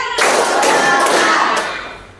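A class of students claps together in a classroom, a loud, close burst of hands lasting about two seconds.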